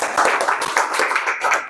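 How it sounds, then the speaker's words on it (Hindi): At an open mic poetry night, audience members clap briefly with a short burst of scattered hand claps, and voices sound over it. "ताली बजाओ।"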